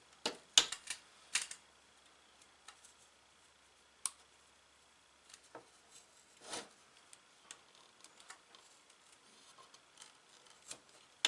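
A single-sided razor blade snicks and scrapes as it trims tabs off a Husqvarna 575XP chainsaw crankcase part, giving sparse, faint, irregular clicks and short rasps against quiet, with no talk.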